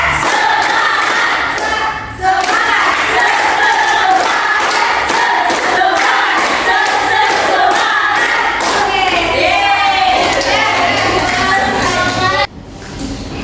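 A classroom of students chants loudly in unison and claps in rhythm, producing a dense, energetic burst of voices and hand thumps that cuts off abruptly near the end.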